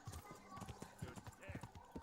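A horse in the medieval game Kingdom Come: Deliverance clip-clops with a steady rhythm of hoof strikes, quiet and close, while someone talks over it.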